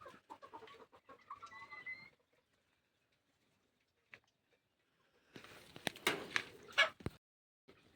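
Chickens and roosters at a Marathi poultry sale give brief clucks and squawks in two bursts, an early cluster and a louder, busier patch near the end, with a quiet gap between.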